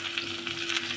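Cut potatoes fry in hot oil in a pan with browned onion, giving a steady, even sizzle that is fairly quiet and close, with no talking.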